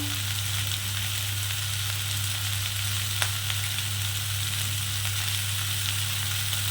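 Katla fish stew frying in a pan, giving a steady close sizzle and crackle throughout, with an occasional faint scrape as it is stirred.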